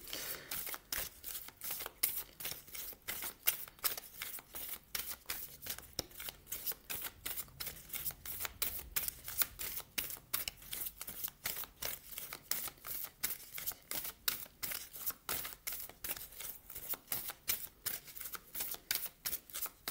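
Oracle cards shuffled in the hands, a fast regular riffle of crisp paper slaps repeating steadily for a long stretch, close and clear with no talking.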